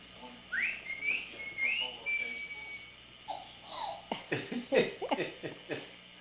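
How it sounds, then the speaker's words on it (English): A person whistles a short rising-and-falling tune up close, followed by babbling, giggly child vocal sounds. "You like that? Whistling?"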